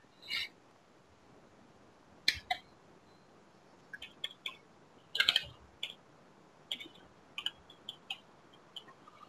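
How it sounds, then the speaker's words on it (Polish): Hard, uneven keystrokes on a computer keyboard during a World of Warcraft session, coming as scattered bursts of clicks and clacks at moderate closeness over a quiet background. "Możecie słyszeć jak nawalam w tą klawiaturę"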